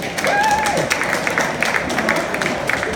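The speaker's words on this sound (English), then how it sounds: "I'd like to have a round of applause for these two first off before we even get going." An audience applauds two performers at a live show, a steady wash of clapping close by, with a few voices mixed in.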